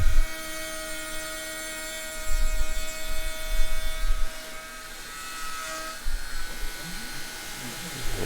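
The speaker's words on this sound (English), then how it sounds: "There's that 1/4 inch cutter still, and we're just roughing out around the letters." A CNC router with a 1/4 inch cutter whines steadily as it roughs out around carved letters in a tray, a high tonal hum with cutting surges, while a voice talks over it.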